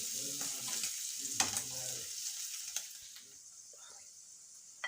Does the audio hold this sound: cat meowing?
no